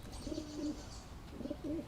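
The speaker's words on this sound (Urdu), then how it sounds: "ابا کبوتر ہے." A pigeon coos in two clear, rolling phrases, one early and one late, close by and alone with no voices over it.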